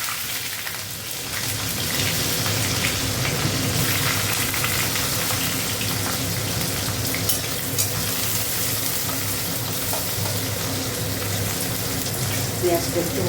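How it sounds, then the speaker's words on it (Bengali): Onion frying in hot oil in a home kitchen pan, giving a steady, dense sizzle that runs unbroken through the whole stretch, close and fairly loud. "পেঁয়াজটা একটু ভাজা ভাজা হোক।"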